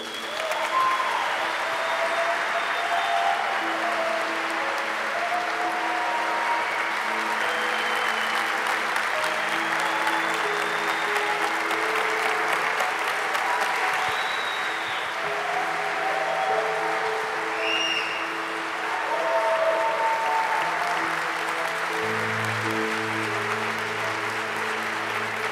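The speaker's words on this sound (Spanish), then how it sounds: "La iglesia aplaude y usted viene." A church congregation applauds steadily and loudly for the whole stretch, with faint voices and a sustained musical tone running underneath.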